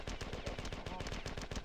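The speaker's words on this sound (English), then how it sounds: "see how he's shooting me?" Rapid automatic gunfire rattles continuously in a video game shootout, with dense, evenly spaced shots sounding close and steady throughout.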